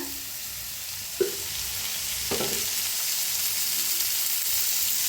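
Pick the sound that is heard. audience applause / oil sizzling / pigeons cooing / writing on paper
oil sizzling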